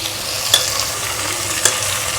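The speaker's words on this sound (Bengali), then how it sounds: "পেঁয়াজটা এর মধ্যে আমাকে একদম ব্রাউন করে ভাজতে হবে।" Chopped onions fry in hot oil in a pan for mutton bhuna, a loud, steady close-up sizzle with two brief stirring scrapes, and no voices.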